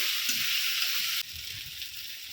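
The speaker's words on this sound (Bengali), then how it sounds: "লঙ্কা গুঁড়ো মশলাটা নেড়ে ফেলে নেব" Chili powder and turmeric masala sizzles and frying in a pan while being stirred for aloo dum, a steady hiss that drops slightly in level midway, with faint low scraping underneath.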